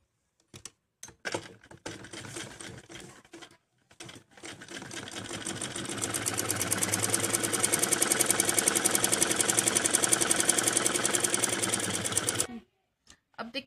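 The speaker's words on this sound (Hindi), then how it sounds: "इसी तरीके से हमें दूसरे आसन को भी सिलना है और दबाने वाली सिलाई लगा लेंगे इसके ऊपर" A sewing machine stitching a Punjabi Patiala salwar starts with short stop-start bursts. It then settles into a long, loud, rapid run of steady stitching before stopping abruptly.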